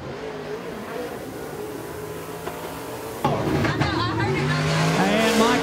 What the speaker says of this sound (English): Michael Barnett sputtering down the main straightaway in car number 34